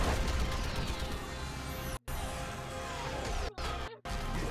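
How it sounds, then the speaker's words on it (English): Orbital strike slamming into a Reaper in Mass Effect 3, a dense roaring barrage of crashing impacts broken by brief sharp dropouts, loud throughout. "I need an orbital strike."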